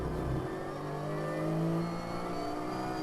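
Loud, continuous engine roar from race cars on the Fuji circuit, holding steady with a slight swell midway, no voices.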